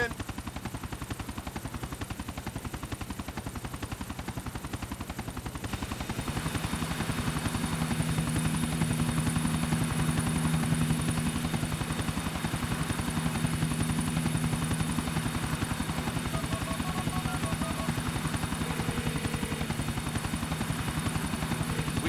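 Helicopter in the GTA IV video game, its rotor chopping steadily and loudly throughout, joined midway by a higher engine whine and music-like tones, with no talking.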